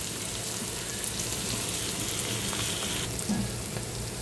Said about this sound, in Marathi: कांदा छान गोल्डन होईपर्यंत परतून घेऊया.